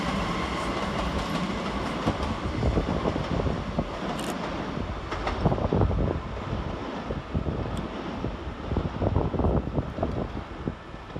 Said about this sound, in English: And going in the opposite direction is 387 137 and 387 139. Working 1655 Heathrow Express service to Heathrow Terminal 5.